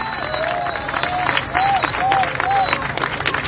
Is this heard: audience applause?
yes